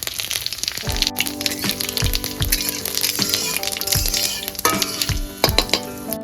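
Whole cumin seeds and a torn bay leaf dropped into very hot oil for a mutton-fat ghugni, giving a steady crackling sizzle with bursts of spitting throughout, heard alone with no talking.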